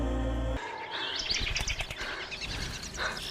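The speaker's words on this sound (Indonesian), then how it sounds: "ketika kicauan burung itu semakin dekat terdengar" Birds chirping and tweeting in the film Bird Box (2018), quick bright calls that begin after a low hum cuts out and continue in a scattered burst, moderately close.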